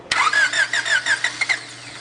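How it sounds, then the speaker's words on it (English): A car engine with a blown head gasket and an overheating problem cranks and catches, giving a sputtering, wavering run of rough pulses for about a second and a half before fading. It is close and fairly loud, with no talking. "That is what a blown head gasket acts like"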